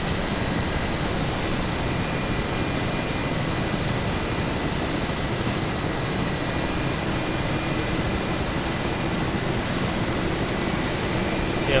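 Steady, dense rotor and turbine roar from an Mi-8/17 helicopter lifting off in Microsoft Flight Simulator over Hawaii, loud and constant throughout with no voices.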